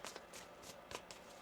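Tarot cards shuffled by hand during a card reading, giving a run of quick papery riffling bursts, several close together, soft and near with no talk over them.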